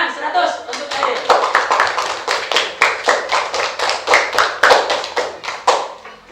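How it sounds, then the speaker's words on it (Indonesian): A primary school classroom claps for a pupil after her answer in an Islamic religious education lesson, a steady run of sharp, close hand claps lasting several seconds with children's voices mixed underneath. "tepuk tangan 100 untuk Airin"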